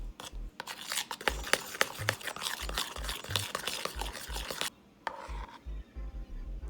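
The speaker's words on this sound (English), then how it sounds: "All you want to do is get your egg and ice cream mixed together into our little custard batter." Egg substitute and vegan ice cream whisked together into a custard batter in a bowl, with rapid close scraping and tapping strokes that run steadily, pause briefly, then resume.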